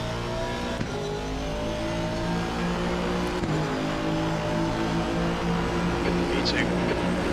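A Porsche race car engine in a video game drones with steady harmonic tones, briefly shifting pitch twice, while a voice talks over it throughout.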